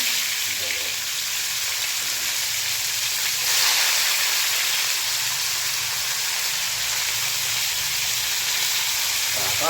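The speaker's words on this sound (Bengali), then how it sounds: "এই তেলটা ফুটেছে, একটু গরম গরম হয়েছে" Onions fry in hot oil in a home kitchen, a steady broadband sizzle and crackle that rises slightly midway and stays even throughout.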